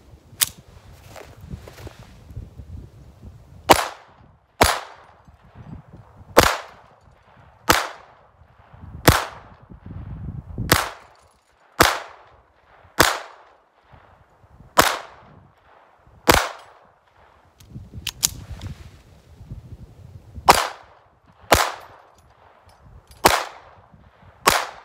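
A Ruger 22/45 MkIV Lite pistol fires at small steel spinner targets, with about fifteen sharp, loud shots spaced roughly one to two seconds apart, each followed by a brief ringing decay.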